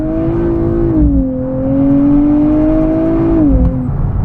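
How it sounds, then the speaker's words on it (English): A 2024 Nissan Z NISMO heard from the cabin while driving, its loud exhaust a strong, steady engine drone that holds, dips in pitch and rises again. "really loud exhaust. But there's no doubt it sounds good in here"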